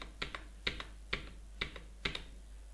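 Several evenly spaced keystrokes on a computer keyboard as an invoice number is typed, quiet and close with no voices.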